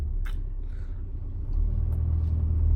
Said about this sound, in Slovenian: Vozim se v Maribor.